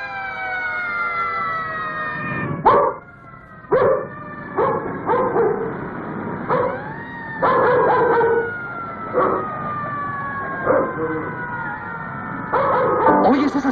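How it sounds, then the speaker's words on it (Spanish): Emergency vehicle sirens wail in long, sliding rising and falling tones, loud and near. Dogs bark in short bursts throughout, and they sometimes howl along with the sirens. "¿Oyes esas sirenas? Son para ti."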